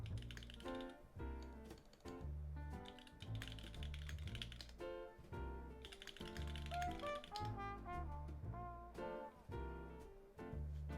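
Steady typing on a Holy Switch Southpaw 75 mechanical keyboard fitted with Gateron yellow switches, a dense, rhythmic run of close clacks with deeper thumps from larger keys, continuous throughout.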